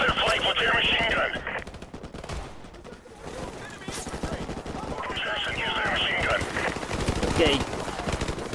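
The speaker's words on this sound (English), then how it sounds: "Hit their flank with your machine gun." Rapid machine-gun fire rattles in Call of Duty: Modern Warfare Remastered, with sustained bursts of automatic shots in a campaign firefight, overlapping with voices talking.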